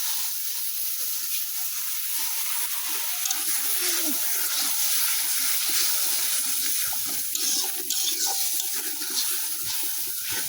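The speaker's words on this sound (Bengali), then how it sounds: "একটু জল দিই, মশলা পুড়িয়া যাচ্ছে" Water hits chili powder and spices frying in a pan while biryani is cooked, setting off a loud, continuous hissing sizzle that holds steady for about ten seconds with faint kitchen clatter underneath.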